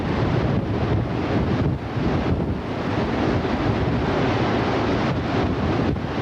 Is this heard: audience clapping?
no